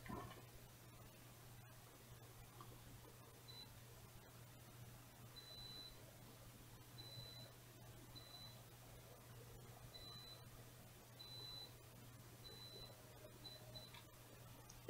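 A multimeter on continuity setting gives short, faint electronic beeps at irregular intervals while soldered filters are checked, over a steady low hum with no talking.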